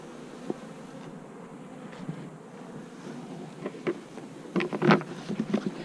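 Honey bees buzz around a hive during a lazy syrup feeding in Florida in November, a steady low insect drone with louder close passes and brief swells toward the end.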